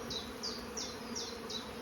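Honey bees buzz faintly around hive frames during an inspection, a steady low hum with a few quick, high whining passes repeating about twice a second, no voices.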